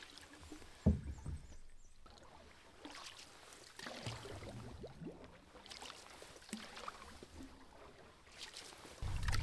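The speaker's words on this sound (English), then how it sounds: "So now I want to paddle at like 1/4 speed, because after the portage, you know, that's it." Canoe paddled slowly on a calm river in spring, soft paddle dips and gentle water swishes and trickles close by, with a louder splash near the start and quiet gurgling throughout.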